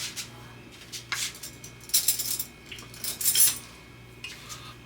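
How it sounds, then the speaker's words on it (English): Metal teaspoon clinking and scraping in a jar while scooping coconut oil, several light, bright taps and scrapes close by in a quiet kitchen, with no talking. "I'm going to get a teaspoon of the coconut oil, or about a teaspoon."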